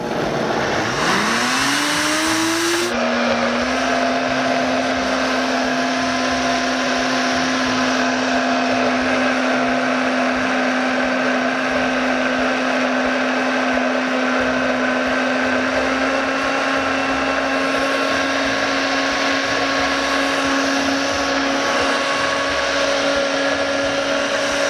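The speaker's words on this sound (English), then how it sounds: "With a cashew-based cheesecake, you really have to have a blender that's going to get the cashews ultra smooth." A countertop blender whizzing a thick cashew-based vanilla nutmeg custard for vegan eggnog cheesecake, spinning up quickly then holding a loud, steady high-speed whir throughout with no talk.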